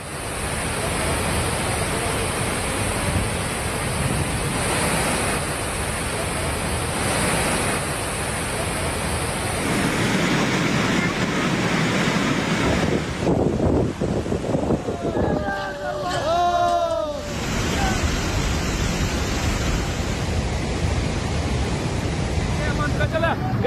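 Floodwater rushes loudly during a cloudburst in the Jammu and Himachal region, a steady roaring wash with wind buffeting the microphone, and a brief chirping sound partway through.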